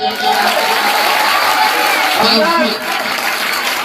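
An audience at a mushaira poetry gathering at an Urs claps loudly and continuously, a dense crowd of hands under a poet's sustained voice and cheering.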